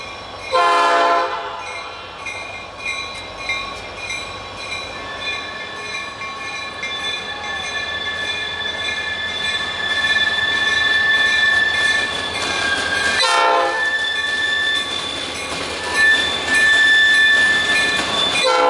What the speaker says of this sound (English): Here comes a southbound intermodal from Sandusky,